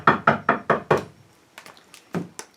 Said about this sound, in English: Duck knocked on the door early the next morning.